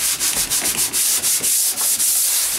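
Sanding paper rubs back and forth over a drywall corner bead in quick, loud, rhythmic scratchy strokes, close and continuous.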